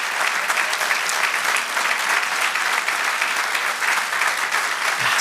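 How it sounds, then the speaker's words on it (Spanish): A church congregation gives a strong round of applause, dense, even clapping that holds steady throughout without a break. "Si le va a dar ese aplauso, déselo con toda su fuerza"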